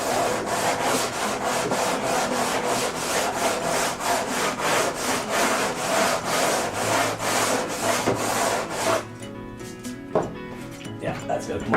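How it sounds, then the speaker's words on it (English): A sanding block is rubbed by hand over wood on an RC model airplane kit, a quick regular back-and-forth scratching of about two strokes per second, close, then it stops and a few light handling knocks follow. "let's try a little sanding here. The sanding block."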